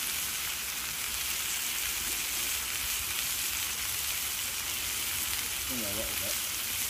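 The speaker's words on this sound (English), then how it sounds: "Just a spit of rain coming in now." Light rain begins pattering on a tent during a windy overnight camp, a steady fine hiss throughout with a brief faint voice near the end.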